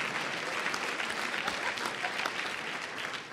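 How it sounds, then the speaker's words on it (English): A conference audience at an education event breaks into steady, dense applause, many hands clapping evenly throughout with no break, fairly distant and uniform in level. "let's give him a round of applause"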